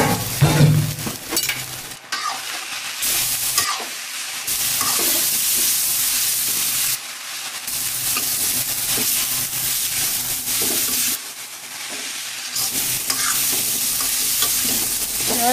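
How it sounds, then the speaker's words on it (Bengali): Dhenki greens stir-frying in a pan, with a loud continuous sizzle and hiss broken by repeated scraping strokes of a spatula, close and unaccompanied by voices. "শাক ভাজা হয়ে গেছে।"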